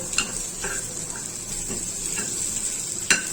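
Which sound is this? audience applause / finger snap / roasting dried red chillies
roasting dried red chillies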